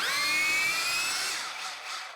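Cordless 21V GENAI rotary hammer running in drill mode without impact to back out a screw, a steady high-pitched whine close by that fades slightly toward the end, with no one talking.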